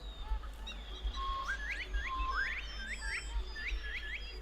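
Birds in the video game Beasts of Maravilla Island give a run of short rising whistled chirps, repeated in quick bursts over a soft ambient bed with no talking.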